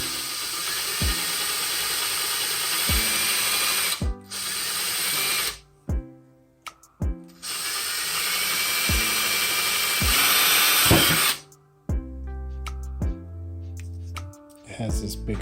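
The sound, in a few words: power drill drilling a hole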